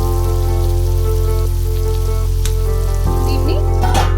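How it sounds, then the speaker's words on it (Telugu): Tomatoes and spices cooking in oil make a steady close sizzle over a loud constant low hum, with a few stirring clinks and scrapes near the end. "వీటన్నిటిని వేసి టమాటా కొంచెం మెత్తగా మగ్గాలి ఆయిల్లో"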